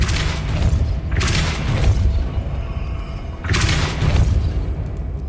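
Depulso force spell cast in the Hogwarts Legacy video game, giving two heavy booming blasts with deep low rumble, spaced a few seconds apart, loud with no talking.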